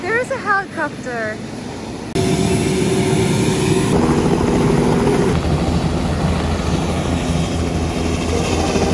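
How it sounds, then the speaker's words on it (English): A brief voice, then a loud, steady helicopter roar with a rapid rotor thump sets in abruptly and continues close by. "Here is a helicopter."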